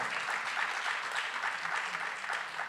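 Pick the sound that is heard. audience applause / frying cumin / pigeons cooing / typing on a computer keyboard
audience applause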